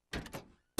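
A cartoon door in Space Goofs sounds as two quick sliding scrapes, a short pause of silence, then a loud closing thud, all close and sharp.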